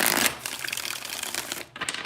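Tarot cards get shuffled up close in a fast, crisp flutter of riffling card edges, with a brief pause near the end and then more shuffling.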